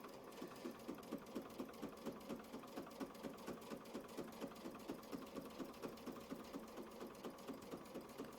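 A sewing machine stitches a quilt block in a steady, even run, its needle thumping in a fast regular rhythm over a constant motor whir, close and alone with no talking.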